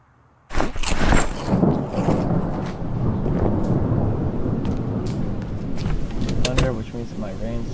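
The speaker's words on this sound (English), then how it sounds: "Thunder, which means it might rain soon." Rolling thunder from the Project Zomboid video game, a loud broadband rumble that bursts in after a short silence and keeps growling steadily for several seconds, with a brief sharper crack near the end.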